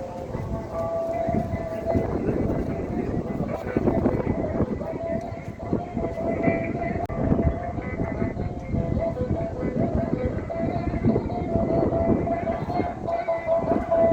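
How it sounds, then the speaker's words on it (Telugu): Strong wind gusting at the seashore on the southern tip of India, where three seas meet, roars as a loud, continuous broadband rush that buffets steadily throughout. "గాలి అయితే బీభత్సంగా వస్తుంది"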